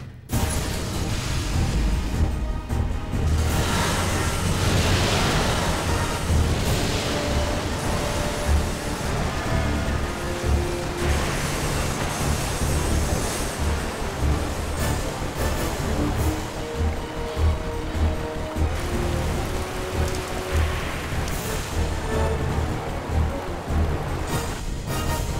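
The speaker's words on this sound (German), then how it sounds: "Die Station unter Wasser gesetzt." Water floods a station in the video game Resident Evil Code Veronica X: a steady, loud rushing and roaring surge runs unbroken from start to finish, with deep churning rumble underneath.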